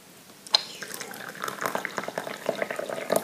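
Pu-erh tea pours from a teapot into a cup, a steady liquid trickle with small splashes and drips, close and moderately loud, lasting a few seconds.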